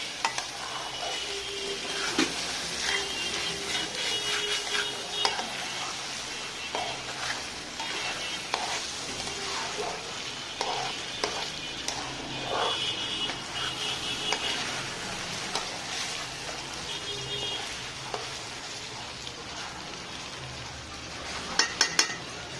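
Rice grains stirred and dry-fried in a pan, with a steady sizzle and repeated scraping and clinking of a spoon against the metal, continuous throughout and close by.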